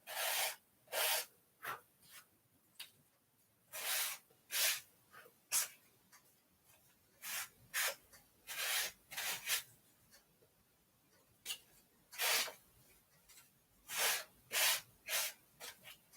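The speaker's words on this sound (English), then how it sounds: "I'm going to sand these edges a little because there's just a little bit rough." Rough paper edges of folded cards are sanded in short, quiet strokes, the rasping swipes coming in irregular bursts with brief pauses in between, close by.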